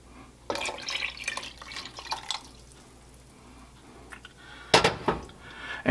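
Milk poured into a pan of bubbling broth for a chicken lasagna base, heard as close liquid splashes and dripping bursts early on and again near the end, separated by a quieter simmering stretch.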